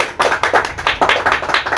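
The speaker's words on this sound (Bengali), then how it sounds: "হাততালি দাও" A family at an anniversary celebration claps hands in a quick, even rhythm, about seven or eight sharp, close claps in under two seconds.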